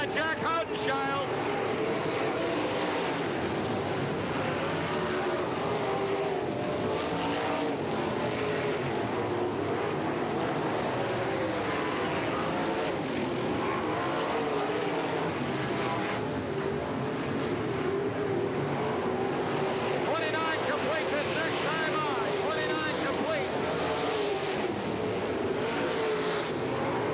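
Sprint cars in a 1987 World of Outlaws race at Hales Corners roar around the dirt oval, a dense, continuous wall of engine noise heard from the stands with crowd and wind wash mixed in.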